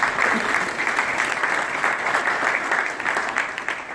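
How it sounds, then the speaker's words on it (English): An audience at an NHL All-Star Game announcement press conference gives a sustained round of applause. The clapping is steady and moderately loud throughout, with no clear speech over it. "We'd like to give them a round of applause."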